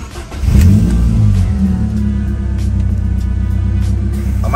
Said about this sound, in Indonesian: Oke, kita hidupkan mesinnya.